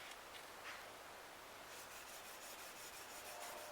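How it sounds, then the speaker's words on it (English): A Damascus steel knife blade is sanded by hand with 1500 grit sandpaper in light strokes, producing a faint, steady close rubbing hiss with a soft repeating rhythm toward the end. "I'm now going to clean it up with the 1500 grit. Just going real light strokes on this."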